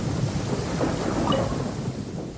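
Steady rain with low rumbling thunder in the Genshin Impact video game, a continuous wash of downpour throughout, with no voices.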